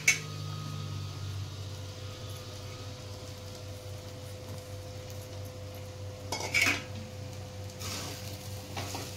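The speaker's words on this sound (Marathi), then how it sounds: "दोन मिनिटं मी हलवून घेते" Sabudana khichdi with potato is stirred in a pan, giving soft scraping and a low sizzle under a steady hum, with a louder burst of utensil scraping near the end.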